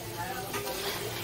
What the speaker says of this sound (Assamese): এতিয়া পকৰীখিনি ভাজি আছো